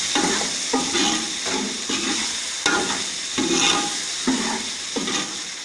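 Chicken biryani masala with salt being stirred in a pot, heard as rhythmic scraping strokes about every second over a steady sizzle, close and fairly loud, with no voices.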